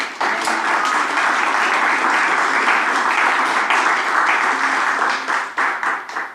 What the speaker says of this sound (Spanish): ¿Cuántos le dan un fuerte aplauso a Dios?